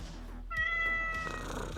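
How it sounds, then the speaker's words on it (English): A cat gives one clear, close meow midway, a drawn-out tonal call rising over a low background hum, with soft noises after and no talking. "Oh, that's such a cute meow."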